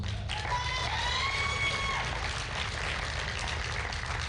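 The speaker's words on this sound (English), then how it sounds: "Give him one more round of applause." An audience at a 2019 USA Powerlifting Open Nationals meet gives steady, continuous applause over a low rumbling hall background, with a faint voice near the start.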